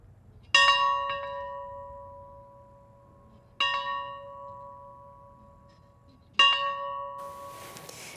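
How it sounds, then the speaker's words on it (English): A single bell rung in mourning outside Jimmy Carter's childhood home, struck three times at slow, even intervals, each clear ringing tone decaying gradually in quiet open air. "A U.S. National Ranger rings a bell in mourning outside Carter's childhood home."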